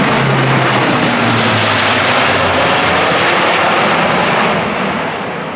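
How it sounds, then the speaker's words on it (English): A huge military plane flies low down the valley over Howden and Derwent Reservoir in the Peak District, a loud, steady roaring drone with a low throbbing hum that fills the whole stretch and eases off slightly at the end. "that huge military plane was gliding down the valley over Howden, over Derwent Reservoir"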